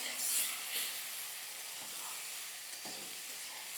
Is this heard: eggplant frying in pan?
yes